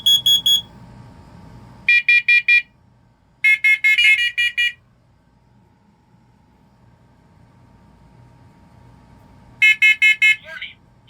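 Smoke alarms sounding for carbon monoxide, loud clusters of rapid high-pitched beeps in bursts of about four, separated by quiet gaps, close by, with a low hum between bursts.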